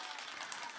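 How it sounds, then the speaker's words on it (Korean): Children applaud together during a Sunday church service at Mokpo Sarang Church, a soft, distant, continuous patter of many hands, brief and unaccompanied by speech. "모든 친구들 박수!"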